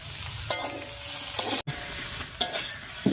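Jackfruit curry cooking in ghee sizzles steadily in a pan, with a few distinct scraping stirs of a spoon breaking through at intervals, close and fairly loud with no talking.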